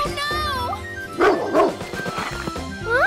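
Cartoon dog in a dress-up video game barking and yipping, several sharp yaps mid-clip between stretches of playful game music and a voice.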